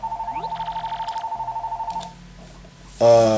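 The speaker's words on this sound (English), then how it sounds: "my phone is ringing" A telephone rings in a fast, pulsing trill for about two seconds, then stops and is followed by a short burst of other sound.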